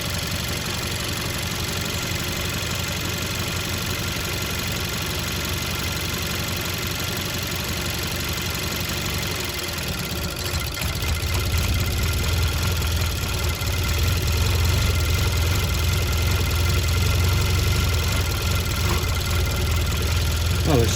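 A 2011–2017 Hyundai Accent GDI engine idles steadily with Seafoam being poured into the intake, a constant close mechanical drone with a deeper rumble swelling in partway through; someone talks briefly over it.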